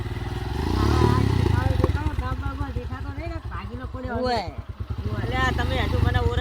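A motorcycle engine runs with a low, steady throb under nearly continuous talking, its pitch rising and falling slightly.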